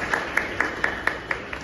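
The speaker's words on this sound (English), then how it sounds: "I really require a round of applause" A few audience members clap at a formal celebration honouring a chairman, giving a sparse, evenly spaced series of light claps heard fairly faintly.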